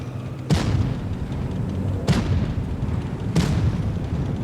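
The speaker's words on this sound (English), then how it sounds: "Enemy armor is hit." A tank shell hitting enemy armor in a video game: three heavy booming impacts, spaced a second or more apart, over a constant low rumble of the battle.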